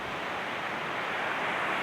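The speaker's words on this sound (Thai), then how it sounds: "ลมแรงมากเลยครับ" Strong wind buffets an open hilltop campsite during the rainy season, a steady loud broadband rush with low gusting rumble and no voices.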